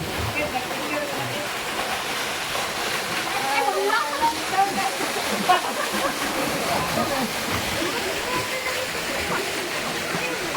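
Water in a flowing stream where children are bathing rushes steadily. Faint splashing comes and goes under the constant wash, with distant voices barely audible in the background.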